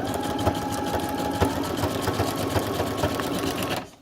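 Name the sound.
sewing machine stitching zigzag on fabric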